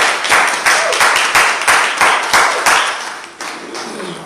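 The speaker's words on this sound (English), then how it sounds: "Another round of applause for Renay." A live audience at the sWord Fight 2 show claps for a performer, the applause pulsing in a strong, regular rhythm of loud, close clapping bursts that loosens toward the end.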